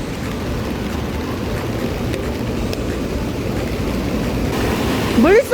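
Heavy rain pours down with water rushing like a waterfall, a dense steady roar throughout, with a brief voice-like sound near the end.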